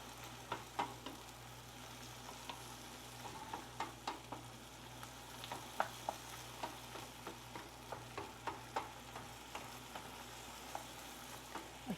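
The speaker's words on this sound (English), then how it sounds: "Give this a stir." Shrimp and seafood stock sizzle steadily in a skillet, a soft, even frying hiss broken by repeated light scrapes and clicks of a utensil stirring the pan.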